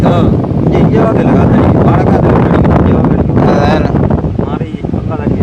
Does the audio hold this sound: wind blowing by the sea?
yes